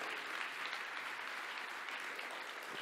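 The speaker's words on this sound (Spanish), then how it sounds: "Dale un aplauso a Jesucristo" A church congregation claps together in steady, dense applause, a continuous wash of many hands heard from a moderate distance with no breaks.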